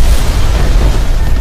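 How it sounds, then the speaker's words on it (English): A violent explosion from a landmine stepped on in a film scene, a loud sustained low rumbling blast with dense boom filling the whole short stretch, no voices. "After a violent explosion,"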